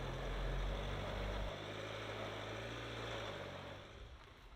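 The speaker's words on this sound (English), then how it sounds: "I'll roll into the throttle there." A 2023 Ford Everest bi-turbo engine drones under throttle off-road, a steady low rumble that eases slightly partway through and fades a little toward the end.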